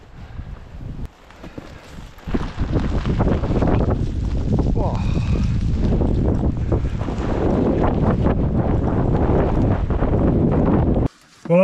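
Strong wind buffets the microphone on coastal rocks during sleet on a cold lure fishing outing, a loud continuous roar with a person talking faintly beneath it.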